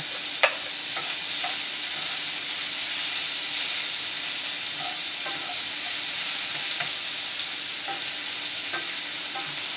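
Onions fry in a pan with a constant loud hiss and scattered small pops and crackles throughout, heard up close without any talking.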